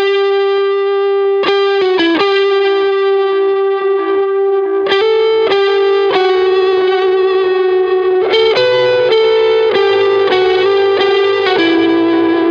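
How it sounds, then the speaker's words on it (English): Distorted electric guitar runs through a delay set to high feedback at a lowered level, in the style of Muse's "Break It To Me". Sustained notes and short picked phrases leave soft trailing repeats, and the playing is loud and continuous with no talking. "ramp up the feedback but pull down the level"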